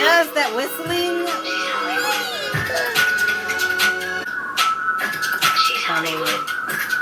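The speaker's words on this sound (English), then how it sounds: "Yes, that whistling." Whistling weaves through a song as melodic whistled phrases over the music, while a listener talks and reacts on top.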